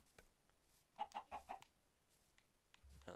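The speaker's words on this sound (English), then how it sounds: "Oh, that's a chicken." A chicken in a Minecraft-style survival video game gives a quick run of four soft clucks in the middle of an otherwise quiet stretch.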